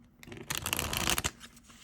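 A quick riffle of tarot cards being shuffled, a brief rapid flutter that builds and then stops.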